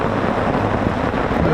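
Heavy rain pours down steadily around a cyclist's campsite in Ontario, a dense, even hiss that runs the whole way through with no break.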